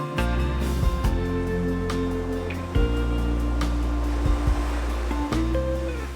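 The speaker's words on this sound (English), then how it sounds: "the movement in the water as it crashes against the post" Sea waves crash against a post on a beach and recede, a steady, fairly loud wash of surf with broad rushing noise throughout and no voices.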